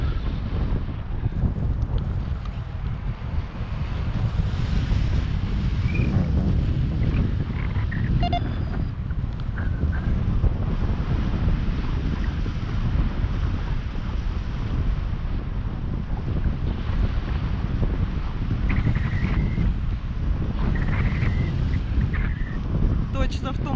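Strong wind buffets the microphone continuously throughout, a dense low rumble with gusty fluctuations, while people speak faintly underneath.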